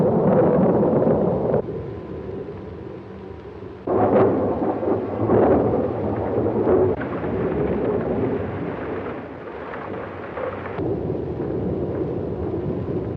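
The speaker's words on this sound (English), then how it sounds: "Thunder like heavy artillery." Deep rolling thunder rumbles through a thunderstorm on a stormy night, with several heavy booms and sharp cracks swelling and fading over the stretch, loud and close.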